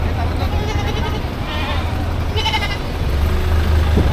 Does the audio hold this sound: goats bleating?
yes